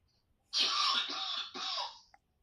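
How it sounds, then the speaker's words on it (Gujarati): A person coughs twice in quick succession over a phone call, two harsh, close bursts with a short gap between them, no talk alongside. "ઉધરસ ખાય એટલે કહું. અરે ઉધરસ"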